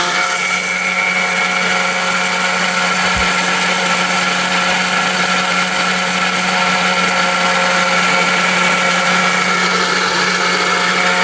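A steel Bush robot blender grinding turmeric, a loud, steady, high-pitched motor whine running continuously without pause.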